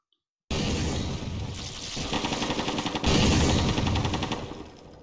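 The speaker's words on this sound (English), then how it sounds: "let's place down a World War II soldier on a mounted machine gun" A World War II soldier NPC's mounted machine gun fires sustained, rapid bursts in Garry's Mod, loud and close, with the rattle intensifying partway through and chaotic battle noise beneath.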